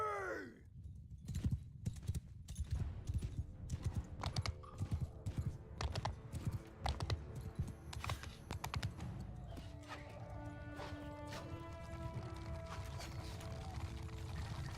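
Mounted archers' hooves pound along in the video game Bannerlord, a busy, continuous patter of galloping thuds mixed with sharp keyboard clicks and scattered game sounds, moderately quiet throughout.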